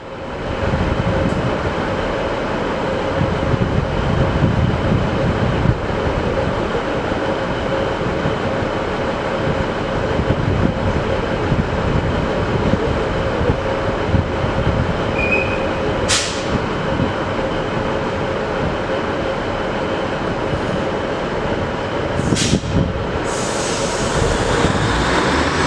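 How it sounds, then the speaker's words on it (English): A Northern passenger train pulls out of Chester station bound for Manchester Piccadilly, a steady rumbling engine and wheel noise filling the platform, with brief high squeals and hissing bursts near the end. "departing now is B1156 Northern service to Manchester Piccadilly"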